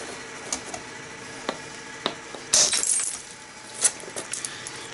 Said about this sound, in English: So I'm going to hit right here. I'm going to strike down and in